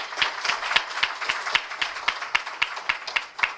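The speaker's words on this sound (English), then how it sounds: "Let's once again give him a big round of applause" Audience applause at an NSE and BSE stock exchange listing ceremony in Mumbai, made of distinct, fairly sparse claps in a quick irregular rhythm from a modest group nearby, steady throughout.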